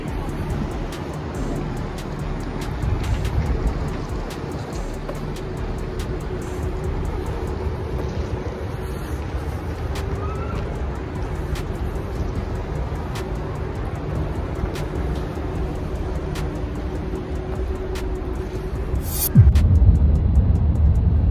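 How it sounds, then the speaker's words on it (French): Combustion-engine cars pass on an open road, a steady broadband traffic and road rumble with wind noise, heard from inside a moving vehicle, with a louder passing surge near the end. "La plupart des voitures que nous voyons ici, ce sont des voitures thermiques."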